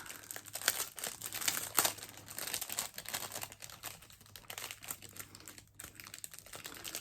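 Plastic wrapping around a pink, sparkly Glamiere beauty product crinkles and crackles in quick, irregular bursts close by, with no talking.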